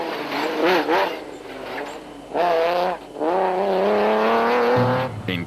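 Nissan Navara 4-litre rally truck racing in South African conditions, an engine revving in loud bursts with rising pitch sweeps and brief gaps between passes.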